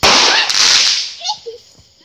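A close, loud burst of 4th of July fireworks cracks and hisses for over a second, then fades into a few scattered small pops and crackles.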